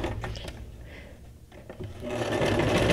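Sewing machine stitching paper ephemera for a junk journal, a steady mechanical whir that dips briefly mid-way then runs louder and denser toward the end, close by with no talk.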